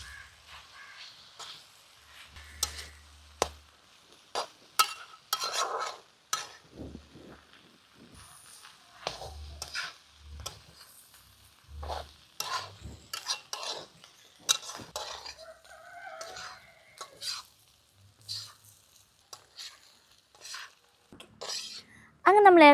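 A spoon scrapes and clatters against a pan as boti fry is stirred over a medium flame, giving intermittent metallic knocks and scrapes at close range with quiet pauses between them.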